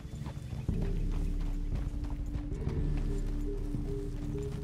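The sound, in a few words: horse hooves in video game Red Dead Redemption 2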